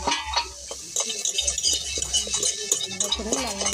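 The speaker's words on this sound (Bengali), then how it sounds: "তারপরে গাজর দিয়ে দিলাম, দিয়ে নাড়াচাড়া করে নেব।" Potatoes and carrots are stirred in a cooking pan, with a spoon scraping and clinking against the metal over a light sizzle, close and in short, uneven strokes.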